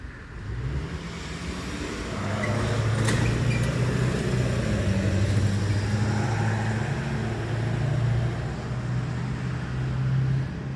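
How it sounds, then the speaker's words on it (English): A truck rumbles past close by in Old Towne Orange, its deep engine drone swelling and holding for several seconds before easing slightly, with no voices. "I'll wait till this noisy truck goes by before I say anything more."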